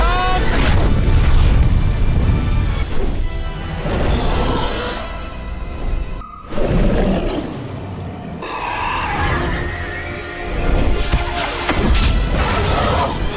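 Explosive dragon fire blasts from the film How to Train Your Dragon boom loudly in repeated heavy bursts with crashing debris, filling the scene with dense low rumble and brief quieter gaps.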